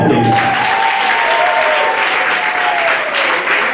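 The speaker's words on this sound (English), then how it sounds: "A big hand clap, please." A crowd at a debate championship in Ibanda bursts into loud, dense applause to congratulate the winners, a continuous roar of clapping close up with a faint whistle-like tone gliding through it.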